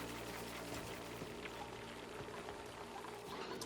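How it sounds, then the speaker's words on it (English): A shower runs steadily in the colony sim Oxygen Not Included, giving a constant, even spray of pouring water that stays close and clear, with no voices over it. "Lyle enjoying a good old shower there"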